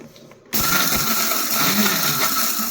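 A kitchen mixer grinder whirs into a loud, steady grinding roar after a short quiet start, blending raw mango chutney close up.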